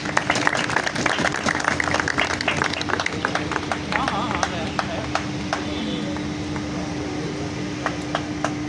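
An audience at a champion party breaks into applause for a performer, a dense patter of clapping hands that is strongest early and thins toward the end, with someone talking over it.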